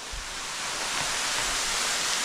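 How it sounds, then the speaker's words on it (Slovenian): A flowing stream, a tributary of the Butoniga creek in central Istria, gives a steady full rushing wash of water, close and constant, with no talk. "To je zdaj ta drugi potok, pritok glavnega potoka Butoniga."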